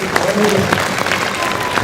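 An audience at a 20th anniversary event claps and cheers together, with steady dense applause and scattered louder claps and whoops, close and lively throughout.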